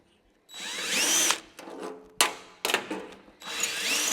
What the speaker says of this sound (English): pull this thing out, we can drill the holes right in it